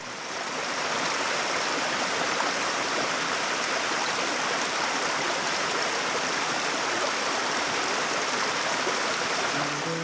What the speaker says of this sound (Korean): 자연의 소리를 잠시 들려드릴게요